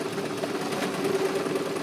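A sewing machine runs at an even, gentle pace under light pedal pressure while a skirt is sewn. It gives a steady close mechanical whir with a fine rapid stitching rhythm that continues without a break and with no talk.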